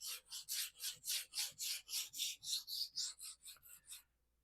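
An AUS8 steel Cold Steel Kobun knife blade drawn over an extra coarse ruby sharpening stone, cutting a fresh bevel: about fifteen steady, evenly paced gritty rasping strokes, close and fairly loud, ending abruptly.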